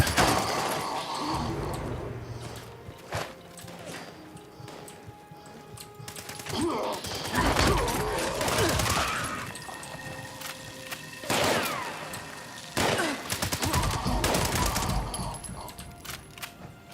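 Gunfire in Fallout 76 crackles in irregular bursts and volleys, with several louder clusters of shots spread across the stretch and a player's voice talking over it.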